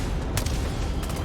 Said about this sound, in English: I mean, they're shooting.